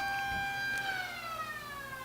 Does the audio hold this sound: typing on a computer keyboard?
no